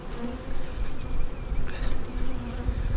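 Dense buzzing of many honeybees during a swarm install into a hive, with smoke being used, steady and close, with wavering high drones swelling and fading over a low rumble.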